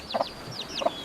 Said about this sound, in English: frizzle hen,